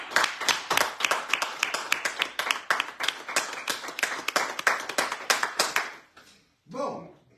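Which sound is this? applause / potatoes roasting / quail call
applause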